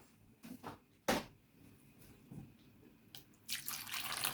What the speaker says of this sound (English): I'm going to pour some water into this